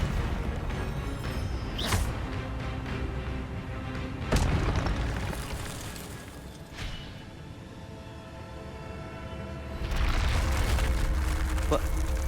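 Incendio fire spell cast in the Hogwarts Legacy video game, booming fiery bursts at intervals with a roaring rush of flame swelling near the end, loud and close.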